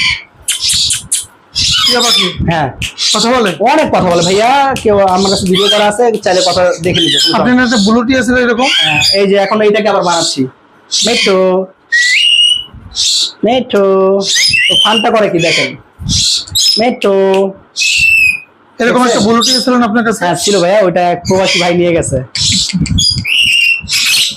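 Pet birds at a bird seller's stall, including mynas and parakeets, give loud, repeated squawks and whistled calls throughout, with people talking close by in between.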